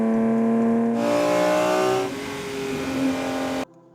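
A classic sports car engine revs hard, pitch climbing in a couple of loud surging pulls before cutting off abruptly.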